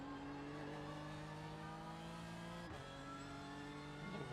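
Audi race cars in the iRacing sim at Bathurst, a sustained engine whine holding pitch, then a sharp drop and shift before climbing again, a steady mid-loud drone with no voices.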